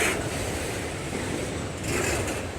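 A CSX autorack freight train carrying vehicles rolls past near Lagrange, Georgia, a steady close rumble of wheels and cars with faint clacking and no talk.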